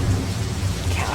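Video game thunderstorm with rain gives off a steady dense hiss of falling rain and a low rumbling undertone, loud and continuous through the brief moment.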